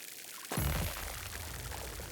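Water pours in the video game Grow: Song of the Evertree, starting suddenly as a loud, rushing splash that settles into a steady stream.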